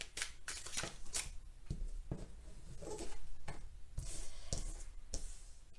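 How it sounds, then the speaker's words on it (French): Oracle cards shuffled by hand at close range, a string of soft, quick riffling flutters and taps that repeats in short irregular bursts, fairly quiet with no talking. "je bats les cartes et je prends uniquement celles qui sautent"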